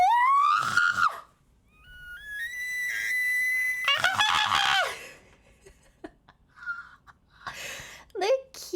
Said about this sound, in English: If you didn't know that that was an elk and you heard that at night,